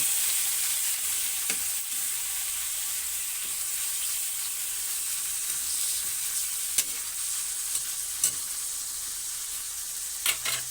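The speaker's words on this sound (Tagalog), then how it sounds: "So, igigisa natin yung chicken natin." Chicken pieces sautéing in a pan for chicken curry, a steady bright sizzle running throughout with occasional stirring clicks and small pops, close and continuous with no talk.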